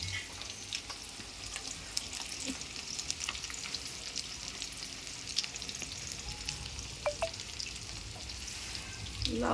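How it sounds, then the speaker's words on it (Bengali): Chicken pieces deep-frying in hot oil as pakoras for chilli chicken, a faint, continuous crackling sizzle with occasional small pops and utensil clinks, fairly quiet throughout. "তেলটা গরম হয়ে গেছে আর মাংসটাকে আমি এবার পকোড়া হিসেবে ভেজে ভেজে তুলে নিচ্ছি।"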